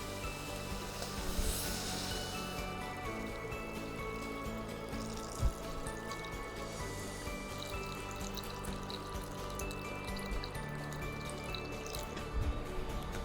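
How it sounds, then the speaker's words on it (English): Water poured into a pot of shrimp heads, a continuous splashing, gurgling stream with occasional drips, steady and close without voices. "And then I'm pouring in my water."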